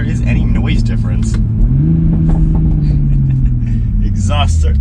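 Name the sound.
Toyota A90 Supra engine revving with exhaust mod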